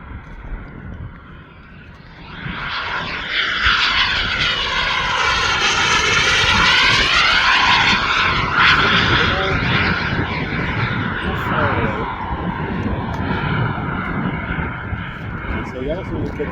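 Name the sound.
radio-controlled scale model airplane engine flying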